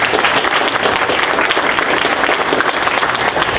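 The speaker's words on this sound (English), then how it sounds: "So big round of applause." An audience at Guajome Park Academy keeps up loud, steady applause, a dense and continuous wash of clapping from a crowd with no talking over it.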